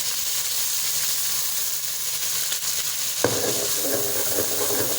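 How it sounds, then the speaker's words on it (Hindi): Onion, garlic and ginger paste fries in a pan with goat trotters and garam masala, a steady hiss that jumps to a louder, crackling sizzle partway through as the paste hits the oil. "और इसको हम भून लेंगे अच्छे तरीके से।"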